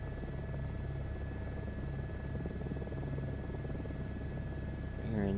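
A helicopter turbine engine coming in to land on a helipad in Microsoft Flight Simulator 2024, a loud steady whine with rapid rotor thumping throughout, close and continuous, with a voice talking over it.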